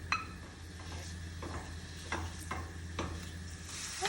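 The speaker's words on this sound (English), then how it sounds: "So the first step is we're going to brown our sausage." Sausage browns in hot olive oil in a pan, giving a soft steady sizzle broken by repeated scrapes and clinks of a utensil stirring against the pan, fairly quiet and close.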